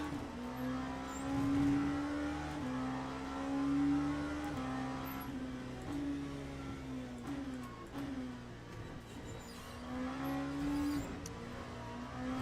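Race car engine in the sim racing game Le Mans Ultimate, a Dallara, drones and revs continuously with rising and falling pitch through gear changes, heard close and alone.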